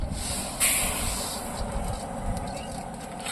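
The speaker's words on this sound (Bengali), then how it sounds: "আমরা মুগের ডাল করব ডালটাকে ভেজে নিচ্ছি সুন্দর করে" Moong dal fries in a pan with a steady, even sizzling hiss, close and fairly quiet, with one brief sharper crackle and no speech.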